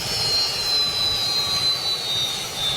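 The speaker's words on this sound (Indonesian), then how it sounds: "helikopter presiden langsung mendarat loh di depan istana, luar biasa" The presidential helicopter landing in front of the palace gives a loud, steady turbine whine and broad rushing roar, with high sustained engine tones holding level throughout and no speech over it.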